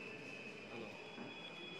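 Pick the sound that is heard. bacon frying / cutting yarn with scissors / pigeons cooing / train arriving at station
train arriving at station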